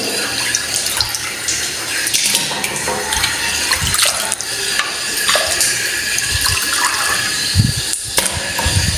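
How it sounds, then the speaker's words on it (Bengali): Duck meat washed under running tap water in a sink, a loud steady stream splashing close by with handling noises and occasional thumps throughout, no talking. "সুন্দর মতো ধুয়ে নিতেছি, চামড়া টামড়া ইয়া করে।"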